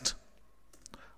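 A computer mouse double-clicks on a spreadsheet in Excel: a sharp single click, then a quick pair of faint, close clicks in a quiet room.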